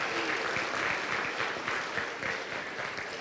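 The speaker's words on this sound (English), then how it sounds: "Give yourselves a big round of applause." An audience at an annual wearable art show applauds continuously, a dense, even wash of clapping from a large room that holds steady throughout without talk over it.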